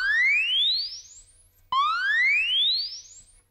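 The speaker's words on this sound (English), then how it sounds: "TONEX sends a bunch of tones into your amplifier to capture" IK Multimedia TONEX test tones sent into a Matchless amplifier for capture: two loud rising sine sweeps, each climbing steadily for about 1.7 seconds and fading toward the top before the second starts abruptly, with no talking.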